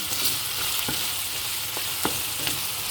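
A spoon stirs mixed bean soup with seasoning and dried mushroom in a pot, a steady bubbling hiss broken by a few soft scraping knocks, with no voices.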